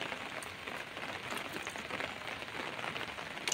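Steady rain patters on a surface at a campsite, a dense, even hiss of drops with no voices.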